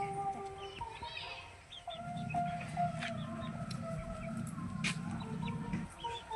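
Chickens on a poultry farm cluck and squawk continuously at moderate distance, with occasional sharper calls over a steady low hum of farm machinery or fans.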